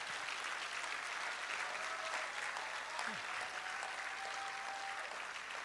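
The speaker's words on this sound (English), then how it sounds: "So a final round of applause for all our graduates." An audience applauding graduates at a medical college general meeting in Ghana, a broad steady roar of clapping from a large crowd, sustained and even, with a faint tone and murmur underneath.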